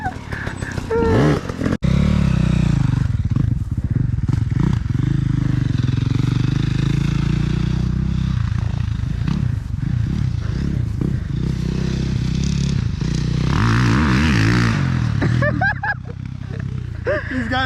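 A dirt bike engine revving and straining on a hill climb, loud and close with fluctuating throttle, clattering and scraping, and people talking over it throughout.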